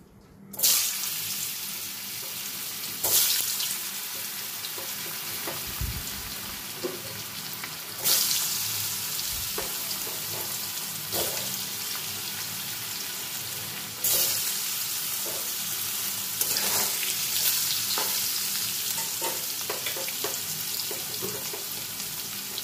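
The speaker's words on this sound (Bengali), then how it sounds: "সবার প্রথমে তেলের মধ্যে একটু নুন আর হলুদ দিয়ে দেব। এবার আমি পনিরগুলো দিয়ে" Paneer pieces fry in hot oil seasoned with salt and turmeric, a steady broadband sizzle running throughout with periodic louder bursts and clinks as the pieces are added and turned.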